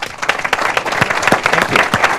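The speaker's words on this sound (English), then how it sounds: "we could give you a round of applause for the people from the operating engineers" An audience at a town hall on jobs and the economy with Governor Rick Snyder claps in a dense, continuous round of applause, close and fairly loud.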